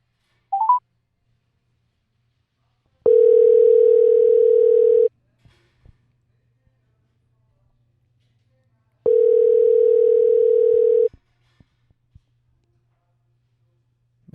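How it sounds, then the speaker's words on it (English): A telephone dial tone sounds steadily while a call is placed: two long, loud, even tone segments separated by a quiet gap, with a brief beep and faint clicks between them. "Let's see if we can get Jace on the phone"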